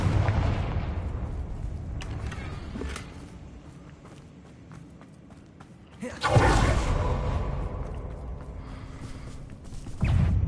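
The Confringo fire spell in Hogwarts Legacy on PS5: a rumbling game ambience, then a sudden loud blast with a whooshing, crackling burst that fades, and another surge at the end.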